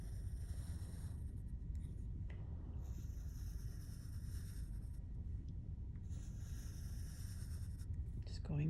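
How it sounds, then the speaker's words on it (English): A pen or marker draws lines on paper while sketching an elephant, giving soft, close scratchy strokes that come in short bursts against a low steady background hum. "So we're just drawing lines on all the parts"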